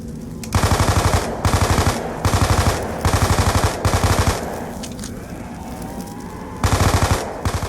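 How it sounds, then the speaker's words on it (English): Automatic gunfire in a video game rattles off in loud, rapid bursts, several close, evenly spaced volleys separated by brief pauses, with fainter shots between them and no voices. "Pi giving him enough shots to vaccinate India, and Haiti just shrugs it off with a couple pistol bullets"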